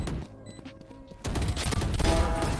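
In the shooter game Valorant, a sudden burst of rapid gunfire erupts partway through after a quieter stretch of game sounds, loud and close with overlapping shots to the end.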